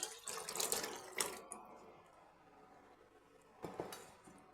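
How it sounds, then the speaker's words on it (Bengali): Water poured from a rinsed pressure cooker into a pot of simmering dal in a home kitchen, a splashing pour at the start, a brief splash near one second, then a quieter stretch and another short pour near the end. "এখন আমি কুকারটা ধুয়ে বাকি জলটাও দিয়ে দিলাম"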